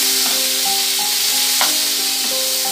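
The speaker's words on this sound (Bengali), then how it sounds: "এবার ভালো করে নেড়ে নেব।" Chopped tomatoes fry in hot oil for a Bengali tel koi fish curry as they are stirred, giving a steady close sizzle with a few spoon scrapes and faint tonal hums running throughout.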